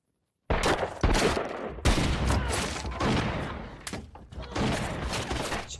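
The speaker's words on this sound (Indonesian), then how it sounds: "Aksi tembak-menembak kembali mereka lanjutkan." Film shootout from a western, Jane Got a Gun: rapid volleys of loud gunshots crackling close and overlapping, bursting in dense clusters after a moment of silence and continuing without pause.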